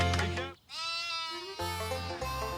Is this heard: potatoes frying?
no